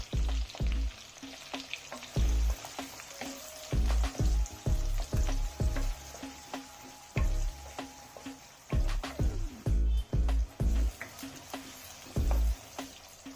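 Onions and mustard seeds fry in coconut oil in a pan for a fish curry, a crackling sizzle with repeated heavy thumps and scrapes of stirring, close and continuous without talk.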